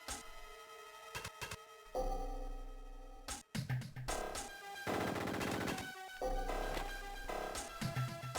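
Video game gunfire from kill.switch on the Game Boy Advance, with rapid bursts of shots aimed at the player ringing out over busy, bright game music and effects, loud and dense throughout with a brief dropout mid-clip.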